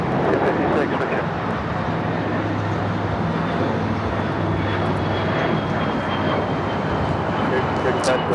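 An Air China Boeing 777-300ER pushes back at Los Angeles International Airport, with a steady, continuous jet engine roar and voices talking over it.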